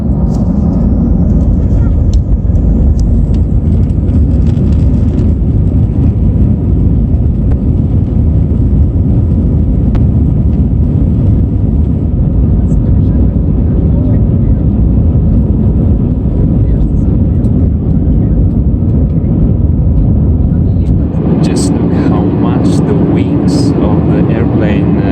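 Airplane cabin during takeoff: a loud, sustained low engine roar fills the cabin without a break, with a brighter rattling texture rising near the end.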